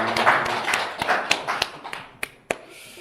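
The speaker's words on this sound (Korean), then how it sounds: "추수감사절을 맞이해서 우리 하나님께 영광의 박수 돌리겠습니다" Scattered claps in a church congregation during a Thanksgiving service, a handful of sharp separate smacks thinning out over three seconds over a busy background murmur.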